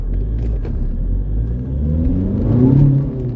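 A car engine revs and accelerates on a road nearby, a steady low rumble rising in intensity toward the end, with no talking.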